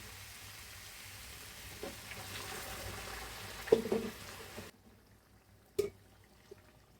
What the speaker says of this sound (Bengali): এখন আমি গরম পানি দিয়ে দিব